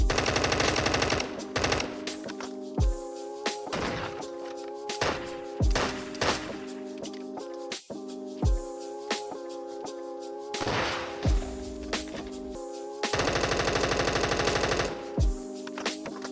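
Gunfire from weapons in a Minecraft weapon mod game, loud rapid automatic bursts and repeated single shots with sharp booming thuds, dense and continuous, with no talk over it.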